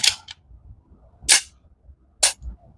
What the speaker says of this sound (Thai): ชักยิงทีละนัดแบบนี้